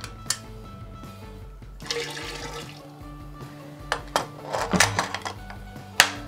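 Warm gelatin fining liquid is poured into a beer keg for a Belgian quad, with splashing and trickling over metallic clinks and knocks, several sharper clanks near the end.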